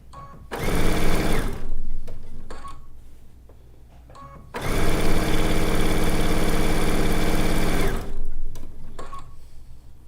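A sewing machine sews together the last units of a zig zag quilt in a loud, close run of two bursts, the second longer and steadier, with quiet handling in between.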